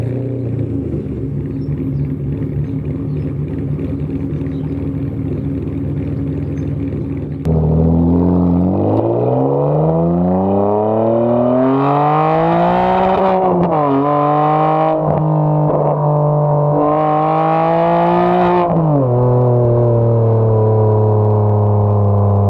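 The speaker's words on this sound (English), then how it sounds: "V12s are always a special thing, and this one is no exception. What an amazing engine." A Ferrari V12 engine idles with a low burble, then catches into a loud, close rev that climbs and falls in several rising sweeps, its harmonics howling upward before settling back.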